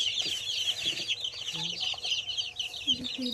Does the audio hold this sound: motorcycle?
no